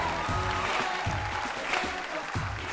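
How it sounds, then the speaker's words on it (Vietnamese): A studio audience at a televised dance competition applauds warmly and continuously, with steady dense clapping and a few rhythmic thumps underneath, holding at an even, fairly loud level. "hãy dành tràng pháo tay thật nồng nhiệt để chào đón top 12 của bước nhảy ngàn cân Dance Your Fat Off"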